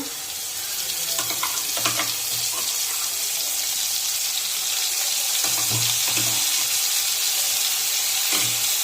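Ground spice paste sizzles and fries in a pan while making dhoka curry, a steady bright hiss with a few louder bursts and clatters of stirring, close by and with no talking.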